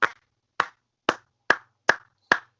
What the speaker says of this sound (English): Rich Swann deserves a round of applause.